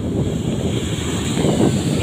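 Ocean waves churning and washing at Jumeirah Beach, Dubai, with steady wind buffeting the microphone and a low rushing rumble.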